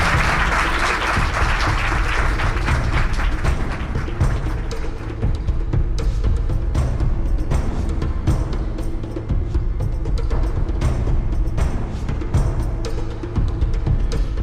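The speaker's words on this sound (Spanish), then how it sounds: "Un aplauso para Juan Ignacio Presta" A studio audience on a Spanish television programme applauds steadily and loudly for the whole stretch, a dense, continuous wash of clapping with no break and no voices over it.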